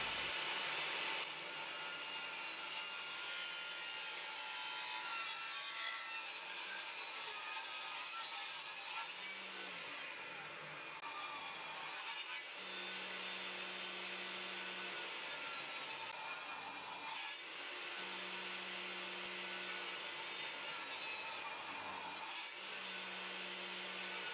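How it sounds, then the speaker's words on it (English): Table saw ripping a solid walnut slab into 1-inch strips for a guitar neck blank, a steady loud whining cut that runs for most of the clip, with brief pauses and low motor hum between passes. "I'm starting by taking a solid slab of walnut to my table saw, ripping a straight edge with the first cut"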